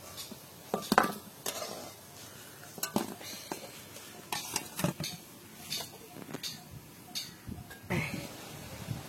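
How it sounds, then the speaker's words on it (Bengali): Pumpkin-mango croquettes fry in a pan under a steady low sizzle, broken by repeated sharp clinks and scrapes of a utensil against the pan. "আবার সবগুলো এরকম করে আমি ভেজে নিচ্ছি।"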